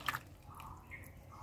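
Salted water drains off sliced mango pieces held over a plate, a faint, close trickle with a few soft drips near the start and no talking.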